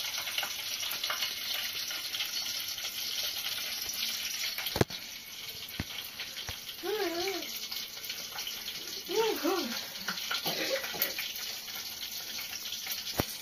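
Chopped onions hit a hot pan and sizzle in a continuous, bright hiss as home cooking gets underway. The frying stays steady and fairly close, with a faint voice briefly heard in the background.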